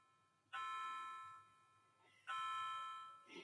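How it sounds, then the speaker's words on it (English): A clock chimes the hour indoors with two resonant, ringing tones that sustain and decay slowly, heard fairly faintly in a quiet room. "Is it doing 16 chimes again?"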